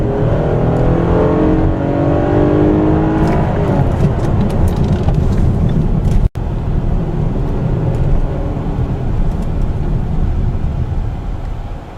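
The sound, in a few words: V6 sedan accelerating hard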